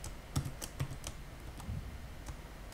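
Someone types a password on a computer keyboard, a few sparse, quiet key clicks spaced irregularly across a short stretch in a hushed room.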